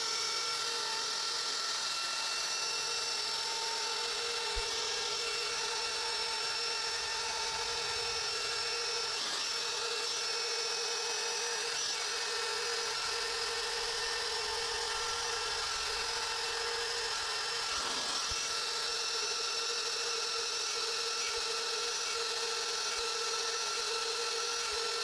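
A handheld power tool carves a wooden sign with a continuous high-pitched whine, steady and moderately loud throughout, with occasional slight dips as the bit bites into the wood.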